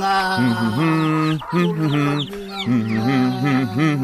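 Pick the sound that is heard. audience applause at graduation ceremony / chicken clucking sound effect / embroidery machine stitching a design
chicken clucking sound effect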